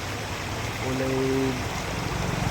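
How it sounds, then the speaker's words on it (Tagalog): Brown river water rushes strongly past rice paddies in Mindanao, a steady broadband roar that fills the clip, with a brief tonal hum partway through. "O tingnan mo. Ang lakas tubig. Maraming tubig dito."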